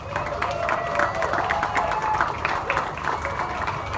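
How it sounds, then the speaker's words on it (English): A crowd at an Old Sacramento waterfront redevelopment announcement applauds, with dense clapping and some cheering and murmured voices blending into a steady outdoor roar. "I want to give him a round of applause"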